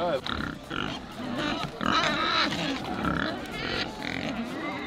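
A herd of purebred Iberian pigs, future bellota stock, grunts and snuffles continuously at close range while someone talks over them.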